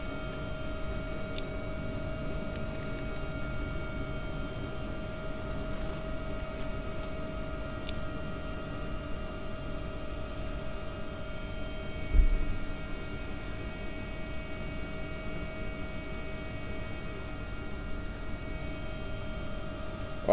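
An AW-139 helicopter in X-Plane 11 flies a Scottish Coastguard rescue route, its engine and rotor giving a steady, droning whine with a constant high hum, unbroken and without talk.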